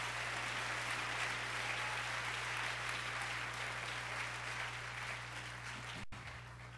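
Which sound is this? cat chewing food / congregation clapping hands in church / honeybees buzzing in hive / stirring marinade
congregation clapping hands in church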